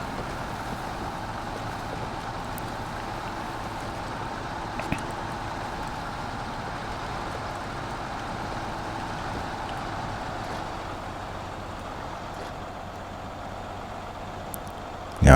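In Snowrunner, a loaded logging truck hauling short logs and metal rolls grinds up a soft, muddy route, its engine a constant low drone with a faint click or two midway and an abrupt loud burst at the close.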